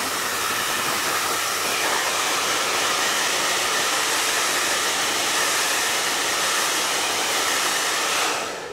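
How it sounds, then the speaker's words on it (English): Blow dryer drying the tape on a lace wig, a loud, steady broadband whoosh running without a break for about eight seconds before trailing off. "use the blow dryer."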